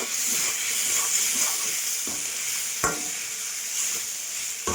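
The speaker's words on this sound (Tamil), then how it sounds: "இப்போ வந்து பாஸ்தாவை எடுத்துக்கிட்டு கலந்துடலாம்." Pasta being stirred and mixed in a hot pan, a steady sizzling hiss with a few soft scraping knocks of the utensil against the pan.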